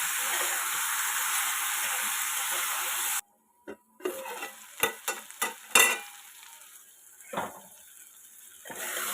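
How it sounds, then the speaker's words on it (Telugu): Brinjal curry with tomato and onion sizzles steadily in a pan, then after a brief silence a spoon scrapes and stirs through it in several sharp, close strokes, with the frying hiss returning in the background. "అందుకని మనం కొంచెం సాల్ట్ యాడ్ చేసుకొని బాగా వాటిని అన్నిటిని మిక్స్ చేసుకొని మూత పెట్టుకొని మగ్గించుకోవాలి"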